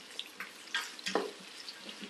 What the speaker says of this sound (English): Now we want to gently saute it for 3 to 5 minutes